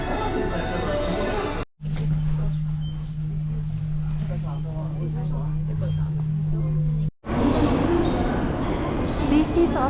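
An Osaka light rail train runs steadily with a sustained low hum and rumble, bracketed by louder crowd and station noise, with people talking nearby at the start and end.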